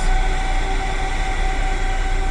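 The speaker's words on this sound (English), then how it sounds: "it's got 5 fans on the radiator on the back side of it" A steady, loud mechanical drone with a constant whine from five truck radiator cooling fans running continuously close by, with no voices.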